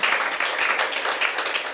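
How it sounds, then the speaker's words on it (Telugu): An audience at a church sermon breaking into steady applause, many hands clapping together in a dense, continuous patter. "చప్పట్లు కొట్టాలి ఇప్పటికీ"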